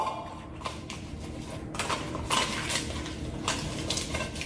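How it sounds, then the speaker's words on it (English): Butter being spread around a baking pan for monkey bread, heard as soft continuous scraping and rubbing with light metallic clinks, moderately quiet and close. "So I'm gonna butter this pan up real good"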